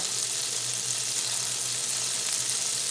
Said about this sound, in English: in this cast iron skillet, I've got about a half a stick of butter